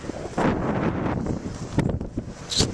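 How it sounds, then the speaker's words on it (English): Gusty wind buffets the microphone in a rough, continuous roar in Hoquiam or Aberdeen, Washington, with a few sharper blasts toward the end. "And it's really windy! Very windy."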